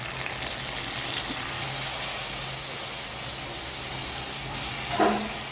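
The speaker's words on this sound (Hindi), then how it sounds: "सारी चीज़ों को फ्राई करते हुए हम यहाँ पे ऐड कर देंगे लहसुन अदरक का पेस्ट।" Ginger-garlic paste hits hot oil with nigella seeds for a spiced eggplant curry, making a steady close hiss with a brief louder spatter near the end, no voices.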